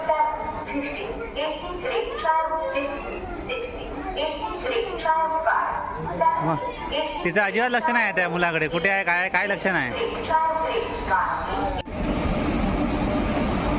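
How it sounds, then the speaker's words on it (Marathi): A train draws into Ratnagiri railway station with a horn and rumbling clatter while people talk loudly nearby on the platform; a dog barks too. "ट्रेन आलेली आहे"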